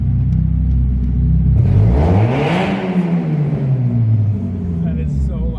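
A car exhaust with a gutted catalytic converter revs loudly and close in a parking garage, the engine note climbing sharply then sliding back down over a deep, continuous rumble.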